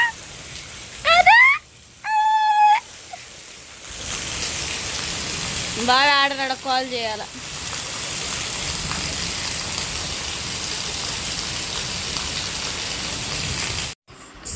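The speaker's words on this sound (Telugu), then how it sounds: "ఇంకా నైట్ అయితే ఈ విధంగా వర్షం పడిందండి" Heavy rain falls at night during a lightning storm, a constant broad hiss throughout. Brief voices or animal calls sound early and midway, and the sound cuts out briefly near the end.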